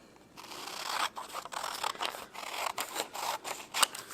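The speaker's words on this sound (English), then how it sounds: "Go ahead and cut off that right rectangle shape there." Scissors snip through a sheet of paper during origami, a close run of crisp cutting strokes in an irregular rhythm, with no talking.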